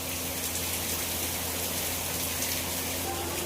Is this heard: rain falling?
yes